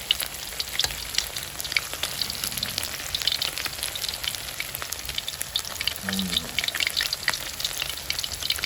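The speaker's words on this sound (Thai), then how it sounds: "ก็ทอด ไปเรื่อยๆนะเดี๋ยวเขาจะหอมกรอบมา เขาจะเปลี่ยนสีมานะเพื่อน" Croaker fish deep frying in hot oil until crispy, a steady dense sizzle and crackle with continuous bubbling throughout, close and even in level with no talking.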